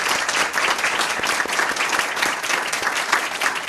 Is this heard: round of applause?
yes